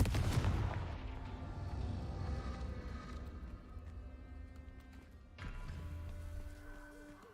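Confringo blasting spells explode in the Hogwarts Legacy video game, loud booming blasts over a dense, rumbling game soundscape, with a fresh burst partway through.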